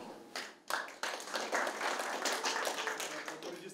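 A hockey team in the locker room after a win over Moscow Dynamo gives a brief, fairly sparse round of hand clapping that lasts a few seconds and sounds close by, with voices murmuring underneath.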